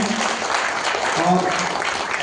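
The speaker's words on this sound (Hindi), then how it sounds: "आप सारे लोग जोरदार ताली बजाएं" An audience at a women's safety event honoring a ladies' patrol police team claps loudly in a dense, steady burst of applause with voices mixed in.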